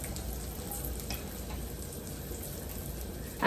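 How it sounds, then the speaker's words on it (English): Eggs frying in melted butter in a pan, a soft, steady crackling sizzle that stays faint and even throughout. "once the butter is melted, let's add our eggs"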